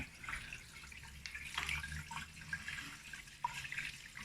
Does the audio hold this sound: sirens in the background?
no